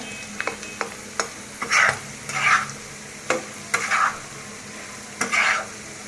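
Beef tripe (bhuri) fries in a pan while a spatula stirs it, with repeated scraping strokes at an uneven rhythm over a low, constant sizzle, close and without speech.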